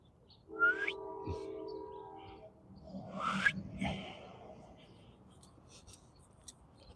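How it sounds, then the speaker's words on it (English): Birds chirp and whistle outdoors at moderate distance, a few scattered calls over quiet background noise. "Man, the birds are great."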